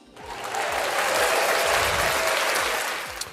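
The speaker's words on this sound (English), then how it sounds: "I love the little fake clap thing." Canned applause sound effect rolls in as a dense, steady wash of clapping that swells quickly, holds loud and even for about three seconds, then tapers at the end, with a faint voice murmuring beneath it.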